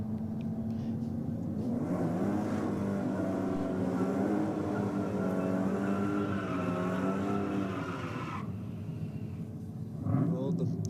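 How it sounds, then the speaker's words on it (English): A Ford EB Falcon Ute with a Barra engine runs down a race track lane, its loud engine droning and rising steadily for several seconds before cutting away, while a commentator talks over it. "the EB Falcon down on track now in the Aeroflow lane"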